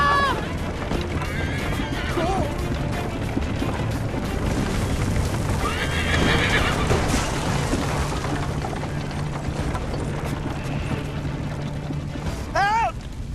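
In the video game Assassin's Creed Liberation, a horse whinnies loudly and gallops with rapid hoofbeats under a dense, busy game soundscape, with a second whinny near the end.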